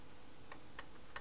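A small alarm clock with a second hand that runs backwards gives three faint, isolated ticks spaced roughly a third of a second apart over a quiet background hiss.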